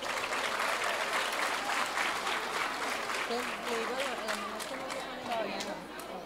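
Strong applause from an audience at a children's music recital, loud continuous clapping with cheering voices and chatter mixed in, tapering slightly near the end.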